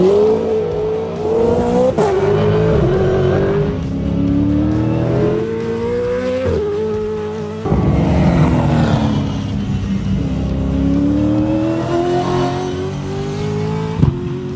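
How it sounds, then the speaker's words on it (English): A Gen3 Supercars Camaro and Mustang pull out of pit lane onto the track, their loud V8 engines revving and accelerating with repeated gear changes and a brief tyre chirp, close and unbroken for the whole stretch. "that Camaro with Brock Feeney and the Mustang with Alex Davidson at the wheel hit the racetrack, depart the pit lane"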